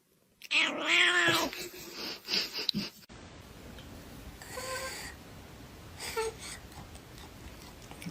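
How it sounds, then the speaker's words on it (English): A cat worked up on catnip lets out a loud, drawn-out yowling caterwaul up close, then falls quiet before a few fainter, shorter wails and whimpers follow. "This is what actually happens when you give a cat catnip."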